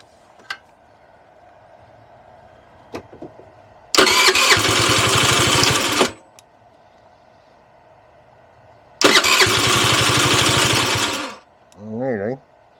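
A Direct Bikes DB50QT-11 sport moped, under restoration, is cranked with the choke on in two long starter bursts that whir and sputter without catching, with quiet clicks in between and a short rising whine at the end.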